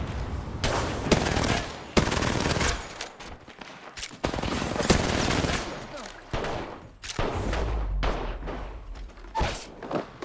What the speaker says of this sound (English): Look, I'm getting shot at.